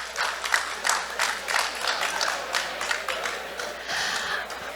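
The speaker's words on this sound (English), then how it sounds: "slow clap, slow clap, slow clap" Audience at a climate innovation summit showcase clapping, a series of spaced claps with scattered crowd noise in a large room, fairly soft and continuous.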